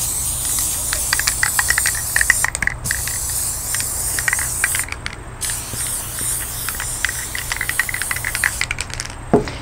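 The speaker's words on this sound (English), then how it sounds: "I actually like to spray both the backing and the batting so that it sticks together really nicely" A steady hissing spray of adhesive from a spray can onto quilt backing and batting runs continuously up close, with brief pauses and scattered clicks and rustles mixed in.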